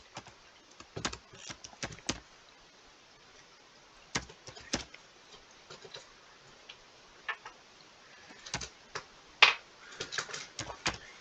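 An email address is typed on a computer keyboard, heard as sparse, crisp key clicks that come singly and in short irregular bursts with pauses between, fairly quiet and close, with no talking.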